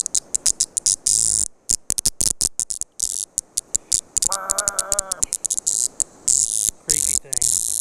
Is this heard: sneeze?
no